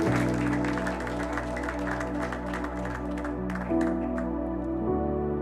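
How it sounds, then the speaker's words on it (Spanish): Church congregation applauding during a thanksgiving service, steady dense clapping throughout, with a sustained musical tone underneath and no talk. "¿Por qué no le damos un fuerte aplauso y le damos gracias por compartir?"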